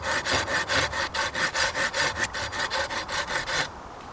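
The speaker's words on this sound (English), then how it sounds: "I'm just making a small indentation into the piece of wood so that when I use my spindle, it doesn't slip out" A piece of wood is worked with a blade to cut a small indentation for a bow drill spindle, making about fifteen quick, even rasping scrapes up close, each a short burst, before stopping abruptly.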